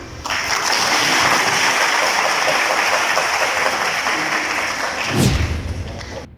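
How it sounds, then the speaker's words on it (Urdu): An audience at a Karachi University chemistry department alumni golden jubilee gathering breaks into loud, dense applause that holds steady for about five seconds, then cuts off abruptly. "اور تالیاں۔"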